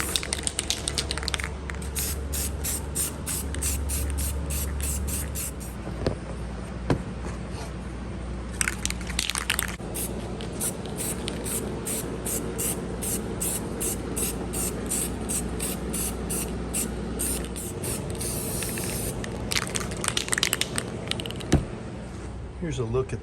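An aerosol can of all-in-one coating sprays in bursts of hissing, some long and some short, with gaps between them and clicks and handling noise, while low engine hum from a van shop runs underneath.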